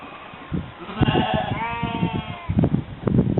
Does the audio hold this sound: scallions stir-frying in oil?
no